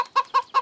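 A pet hen in the Petz Club video game gives three quick, evenly spaced clucks, short and nasal, clear and close with nothing else around them.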